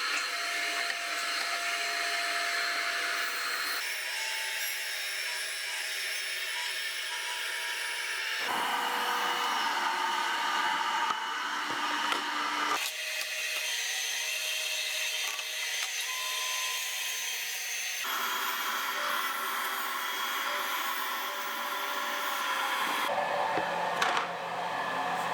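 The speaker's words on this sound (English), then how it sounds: "let's get the dust collection going." A woodworking shop dust collection system runs steadily for the whole stretch, a loud continuous whooshing drone with shifts in pitch as it changes load, with no talking over it.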